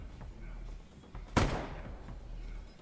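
A single burst from an automatic turret in the video game Resident Evil, a sharp blast around the middle that trails off over a low steady game background, with no one talking.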